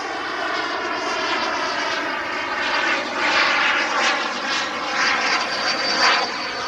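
A BDX radio-controlled jet aircraft climbs after gear and flaps are raised, its steady engine roar filling the air at close range and swelling slightly as it passes.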